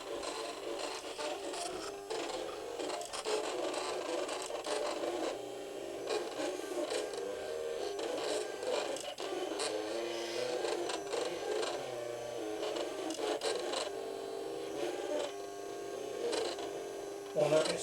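A cutting machine's blade rises and falls vertically at low speed while cutting, giving a steady, close, rasping mechanical drone with faint repetitive ticks and no breaks.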